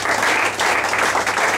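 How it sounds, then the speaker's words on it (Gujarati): An audience at a Gujarati literary gathering bursts into dense, steady applause, loud and close, filling the whole short stretch. "તાળીઓના ગગડાથી વધાવીએ"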